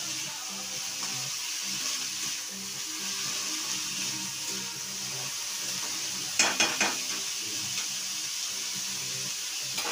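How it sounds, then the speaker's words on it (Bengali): Food frying in a pan gets stirred, a soft continuous sizzle with faint scraping, broken by a short burst of clatter from a utensil against the pan partway through, and no voices. "এটাকে ভালো করে নাড়িয়ে চাড়িয়ে"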